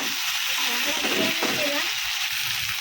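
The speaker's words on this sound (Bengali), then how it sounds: "মাছের মাথাটা অ্যাড করে দিলাম, এবার কষিয়ে নেবো।" Fish head sautéing with spices in hot oil gives a dense, steady sizzle and frying hiss, close and constant, with stirring noises in the middle.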